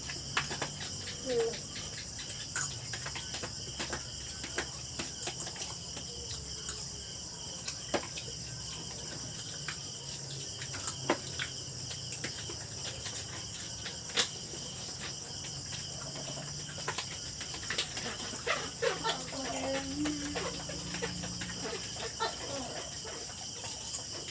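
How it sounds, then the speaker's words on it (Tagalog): Night ambience with geckos calling over a steady background of insect and cricket chirring, with scattered short clicks and calls throughout, moderately distant and continuous. "Nagtinunog na ang mga tuko."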